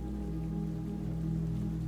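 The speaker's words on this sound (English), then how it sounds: "just the sound of the rain" Steady rain falls on a Brighton evening street, a dense, even hiss that holds constant with a low hum beneath and no voices.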